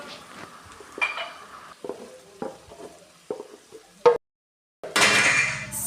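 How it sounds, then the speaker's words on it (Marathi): Mashed potatoes are stirred into frying spices in a pan for vada pav, with scraping and tapping strokes of a spoon against the pan coming at an uneven rhythm. A brief silence follows, then a loud sizzle. "स्मॅश केलेले बटाटे या म मसाल्यांमध्ये मी मिक्स करून घेते"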